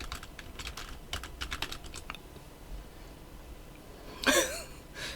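Fingers tap quick, light clicks on a computer keyboard, a faint burst of typing followed by quieter room noise and a short vocal sound near the end.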